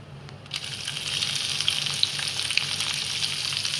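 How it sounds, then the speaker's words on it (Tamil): Onion sautéing in hot oil in a pan for potato varuval, a steady close sizzle and crackle with a few sharp pops, no voices. "ஆனியன் போட்டு கொஞ்சம் நல்லா வதக்கிக்கோங்க, ப்ரௌன் ஆகிற வரைக்கும்."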